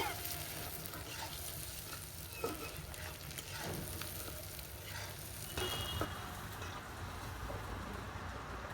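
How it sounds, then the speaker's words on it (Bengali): Onion, garlic and shrimp fry in a pan with a steady sizzle and hiss. A few soft clinks and stirring scrapes sound close by. "পেঁয়াজ রসুন আর চিংড়ি মাছ ভেজে নিচ্ছি।"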